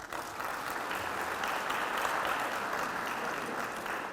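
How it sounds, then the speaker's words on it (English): Steady, sustained applause fills a hall at a high school football awards banquet, a crowd clapping evenly for several seconds without pause. "give a nice round of thank you and applause to our principal, Mr. Jamie Polk."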